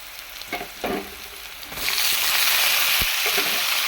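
Tomatoes and brinjal sauté in a hot pan with oil, a few stirring scrapes giving way to a steady, close sizzle that swells and holds, with a utensil knock near the end.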